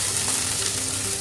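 Peppers, carrots and onions sizzle steadily in a hot pan as a spatula stirs them, a close, continuous crackling hiss with no pauses.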